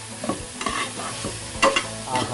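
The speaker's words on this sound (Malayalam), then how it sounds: "നന്നായിട്ടൊന്ന് വറുത്തെടുക്കുകയാണ്." Thoran with turmeric and salt being stirred and fried in a pan, a close scraping stir repeating every half second or so over a steady low sizzle, with no voices.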